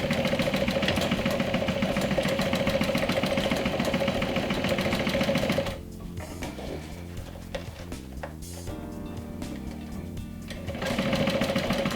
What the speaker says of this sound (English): this is the last sewing step of this backpack